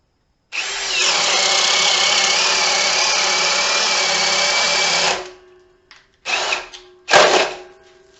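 A cordless drill whirs loudly and steadily for about five seconds, then winds down, followed by two short bursts of drilling.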